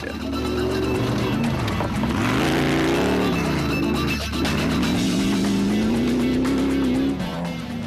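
The Gibson Racing Porter race car roars at the Atlas Copco 400 race in 2011, its engine rising and falling in pitch as it revs through gears, loud and continuous with no talk.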